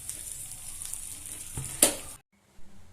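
Fish sizzles as it fries in ghee with masala, a close, steady crackle broken by a louder burst. The frying then stops abruptly, followed by a short silence and a soft knock.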